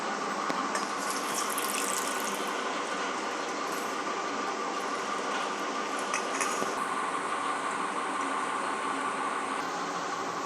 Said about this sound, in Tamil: ஃபர்ஸ்ட் மீன் மேக்கரை நல்லா தண்ணி ஊற்றி வேக வச்சுக்கலாம்.